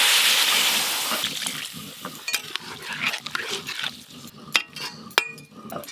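Water poured into a pan of katla fish do-pyaza cooking in a village kitchen: a loud rushing splash and sizzle at the start fades into steady bubbling, then spoon scrapes and stirring clatter against the pan.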